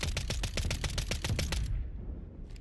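SMG firing in a video game: a rapid, evenly spaced burst of sharp automatic shots, loud and close, running about a second and a half before stopping abruptly, followed by fading reverberant quiet.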